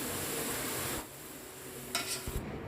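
Frying in hot oil for chicken biryani gives a close, even sizzle for about a second. Then comes a quieter stretch with a couple of brief stirring clinks and scrapes near the end.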